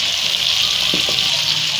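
Chicken and onion frying in a pan, a steady sizzle holding at an even level throughout, with a couple of faint brief clinks partway through.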